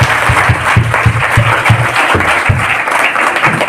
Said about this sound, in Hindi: एक बार उनके सम्मान में जोरदार ताली।